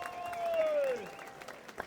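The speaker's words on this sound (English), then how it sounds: "a massive round of applause for Pat" Applause for Pat at the opening of a Taunton motor museum: a fairly faint crowd of clapping hands under a brief whistle-like tone, fading toward the end.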